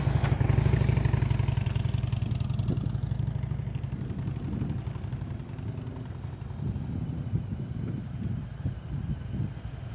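A motorcycle putters along at slow speed during a riding skills practice session, its engine heard nearby with a low, uneven throb that eases down and then picks up again, with no talk over it.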